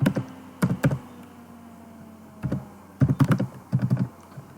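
Keys clatter on a computer keyboard in short irregular bursts of typing, close and fairly quiet, with brief pauses between groups of keystrokes and no talking.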